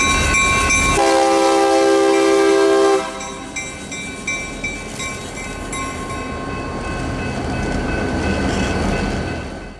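A train passing a railroad crossing sounds a loud, sustained multi-tone horn for about two seconds, then rumbles and clatters steadily past at close range, wheel noise swelling slightly toward the end with no voices.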